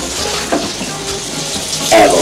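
Water gushes briefly into a bathtub after a flush handle is yanked down, a short splashing burst building near the end, close by with faint room noise.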